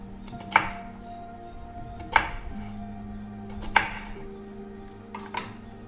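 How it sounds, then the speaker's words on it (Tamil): Peeled elephant foot yam being cut into pieces, with four sharp knife chops landing on a board at a slow, even pace, close and fairly loud over a steady low hum and no talk. "நான் இப்போ தோல் சீவிட்டு கழுவி தொடச்சிட்டு இந்த மாதிரி வெட்டி எடுத்துக்கிறேன்"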